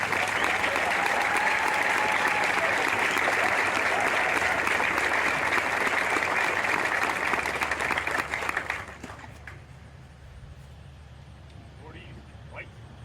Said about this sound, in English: please join me in giving our awardees a big round of applause.